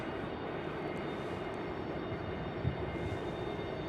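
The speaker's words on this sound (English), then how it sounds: "we got a full alley of planes here. Look at that." Airplanes at Raleigh Durham International Airport give a steady, broad engine roar that fills the whole stretch at an even level, heard from a distance with no talking.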